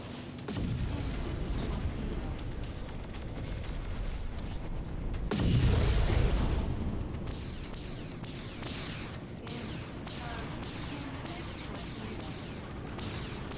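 Missiles explode in the space combat game Discovery Freelancer, a rumbling blast that swells midway through a sustained roar of booms and bursting pops, loud and heavy throughout.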